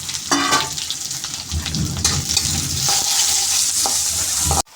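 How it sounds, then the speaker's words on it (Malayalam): Garlic, ginger and curry leaves sauté in a pan for pickle making, with a dense crackling sizzle and brisk stirring scrapes close up, cutting off sharply at the end. "വെളുത്തുള്ളി, ഇഞ്ചി, കരിയാപ്പില എല്ലാം ഇട്ട് വഴറ്റുക"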